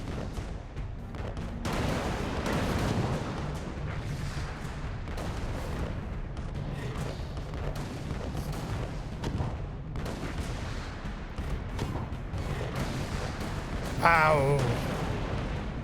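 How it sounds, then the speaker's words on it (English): Booming crab-cannon blasts and gunfire in a video game fire repeatedly, with a brief voice exclaiming once. "Oh no, a crab cannon."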